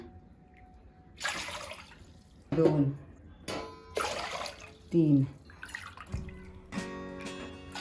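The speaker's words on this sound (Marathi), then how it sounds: "आता ह्यामध्ये चार वाट्या पाणी घालायचं आहे" Water pours in several short splashing bursts into a bowl of finger millet flour, with someone speaking between and over the pours.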